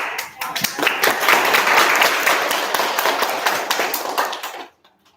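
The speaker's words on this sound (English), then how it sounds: "Please give them a big round of applause." An audience at an international council event gives a round of applause for a visiting school principal from Indonesia, brisk crowd clapping that swells and holds for a few seconds before stopping abruptly.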